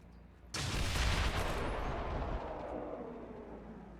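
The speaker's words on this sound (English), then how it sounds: "we take a shot, and since we are shooting the Claymore, this will not alert anyone" A Claymore detonates in XCOM 2 after being shot: a sudden loud explosive boom that hits hard, then a long rumbling decay fading over several seconds.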